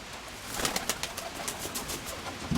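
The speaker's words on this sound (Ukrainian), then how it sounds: "Останній ось цей голубок." A pigeon coos softly against a steady background hiss, with no talking.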